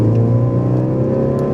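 A Ford Focus RS fitted with a Miltech exhaust accelerates, giving a loud, steady, rising engine drone with a strong low hum, heard from inside the cabin.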